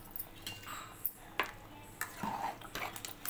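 Mutton curry being stirred in a pot after masala is added, village-style cooking, with a few sharp metal clinks of a spoon against the pot and soft scraping between them.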